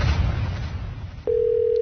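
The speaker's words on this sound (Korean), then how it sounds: "지금 전화를 걸어보겠습니다. 박선규 새누리당 대변인한테 전화해 보겠습니다." A telephone handset picks up a dial tone for a call, a steady, clean electronic tone that starts abruptly partway through after a brief click, following a stretch of low rumbling room noise.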